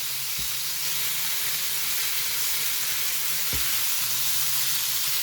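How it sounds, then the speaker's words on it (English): Loud, steady sizzling of seasoned chicken frying on a hot electric flat-top griddle, a constant hiss with a couple of faint knocks, no talking. "I love the sound of that sizzling."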